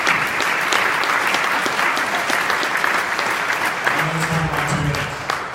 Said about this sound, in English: I'd like everybody to give themselves a round of applause for doing that.